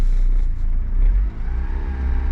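A Peugeot 205 GL engine revving as the accelerator is pressed, a close, steady low mechanical rumble with slight surges in throttle and a brief dip midway.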